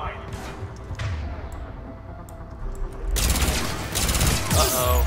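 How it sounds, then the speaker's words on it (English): A Shuriken machine pistol in Mass Effect 3 firing incendiary rounds in rapid bursts, a dense rattle that swells loud in the last two seconds with thuds and combat noise underneath. "I haven't even used the shuriken. I have a lot of ammo for it, so let's give it a shot."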